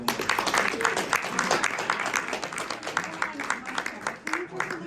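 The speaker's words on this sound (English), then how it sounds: "Give a round of applause." Round of applause at a military retirement ceremony, a crowd clapping steadily and fairly close, with people talking over it throughout.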